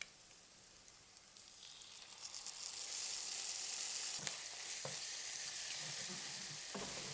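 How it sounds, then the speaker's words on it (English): Ginger and garlic paste, a tablespoon, sizzles in a hot pan with onions for a rogan josh, a steady hiss that swells after a couple of seconds with occasional stirring clicks, alone with no talk. "in with just 1 tablespoon of ginger and garlic paste"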